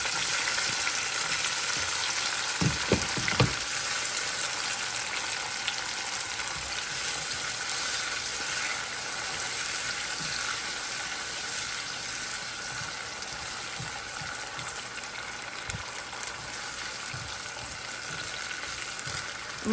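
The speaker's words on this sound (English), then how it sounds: "I'm going to toss in my jalapeno and my tomatoes." Jalapeno and tomatoes fry in oil in a pan, a continuous close sizzle with a few stirring knocks early on, steady throughout with no voices.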